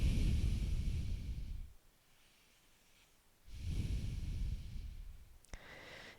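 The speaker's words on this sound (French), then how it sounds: "Et on respire." During a beginner yoga class, a person takes two long, loud breaths close to the microphone, each a rushing exhale separated by a quiet pause.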